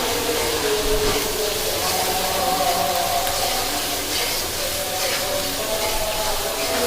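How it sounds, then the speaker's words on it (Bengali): Spice paste for a gourd and shrimp curry is sautéed in a pan, giving off a steady, dense hiss of sizzling that continues unbroken at a fairly close, even level. "এভাবে কিছুক্ষণ আমি মশলাটা কষাবো"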